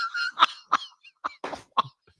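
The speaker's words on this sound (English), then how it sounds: "Sorry, stupid cough, allergies." A person's cough from allergies: a short burst of several dry, close hacks in an uneven rhythm, loud against a quiet background with no talking.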